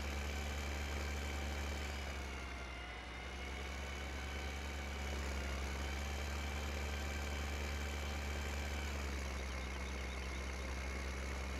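A tractor engine in Farming Simulator 15 drones steadily while climbing hills, a constant low rumble with a humming whine, with a brief dip in level partway through before it settles back to the same heavy tone.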